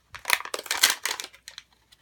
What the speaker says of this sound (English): loud crinkling